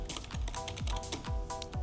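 Quick, irregular keystrokes clatter on a computer keyboard up close, a steady burst of clicks with no talking over them.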